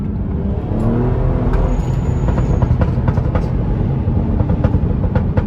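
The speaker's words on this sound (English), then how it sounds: "Watch, I'm gonna downshift. I don't know if you can hear it." A BMW B58 straight-six with a catless downpipe, stock resonators and muffler, downshifts on the road, giving a loud, steady exhaust drone with a slight rise in revs and no talk over it.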